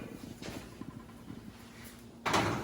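An oven door swings shut with a single firm thump on a pumpkin pie with butter crust, coming near the end after quiet kitchen movement and a low steady hum.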